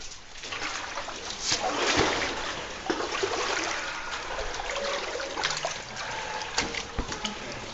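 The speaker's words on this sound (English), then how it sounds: "And down into the water we go." Water splashes and sloshes as people wade into a cave stream in a wild cave, a close, continuous churning with irregular splatters and trickles, with no clear talking.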